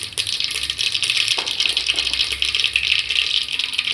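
Mustard seeds crackling and popping in a ladle of hot oil, a dense continuous sizzle with scattered small pops, close and fairly loud, with no talk.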